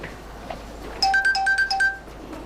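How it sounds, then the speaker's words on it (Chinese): A mobile phone ringtone rings in a quiet room, a bright repeating electronic melody of about six short notes that starts abruptly and plays for about a second, with no talk over it. "我接电话。"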